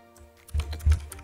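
Typing on a computer keyboard, a few close key clicks with two firmer strikes near the end, quiet and alone without talk.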